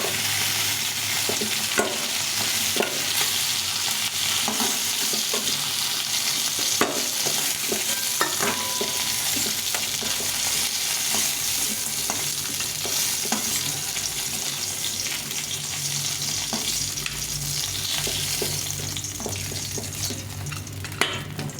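Fish pieces frying lightly in a pan for a fish-head and mung dal dish: a steady, close sizzle runs throughout, broken by small ticks and scrapes of stirring, with no talking.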